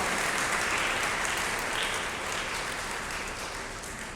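A congregation at St. Francis Catholic Church in Lahore gives sustained applause during a feast-day service, a broad, steady patter that fades slightly toward the end, with no voices on top.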